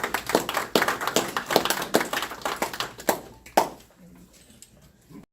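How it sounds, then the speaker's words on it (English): Members of a community advisory board applaud themselves, a burst of distinct close handclaps that thins out and stops after a few seconds, leaving near silence. "Give yourself a round of applause for that."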